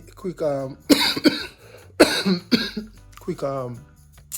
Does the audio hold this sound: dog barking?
no